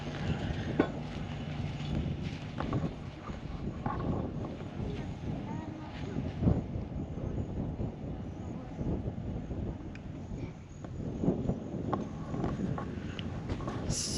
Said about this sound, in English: It's still pretty windy down here